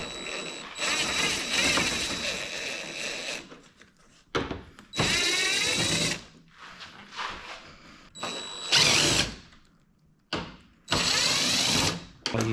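A power tool spins out two bolts during an IAT cooling upgrade on an A90 Supra, several loud whirring bursts of a few seconds each separated by short pauses, close up and with no talk.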